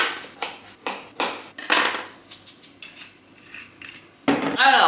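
Pasta with tuna and tomatoes is served onto a plate. Cutlery and dishes clatter in a series of sharp, close knocks and scrapes, and a voice cuts in briefly at the end.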